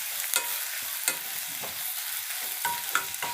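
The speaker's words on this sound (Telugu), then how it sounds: "ఉల్లిపాయ పచ్చిమిరపకాయ చక్కగా మగ్గిన తర్వాత" Onions and green chillies sauté in oil in a pan for a tamarind-leaf chicken curry, a soft close sizzle broken by sharp spatula scrapes and taps against the pan every half second or so, no voices.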